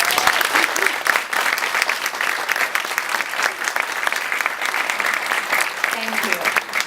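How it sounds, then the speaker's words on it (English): Sustained audience applause for the first graduating engineering class of 2012 at a high school ceremony, a dense, steady wash of many hands clapping for about seven seconds with a few faint voices mixed in. "Please give a round of applause to the first graduating engineering class"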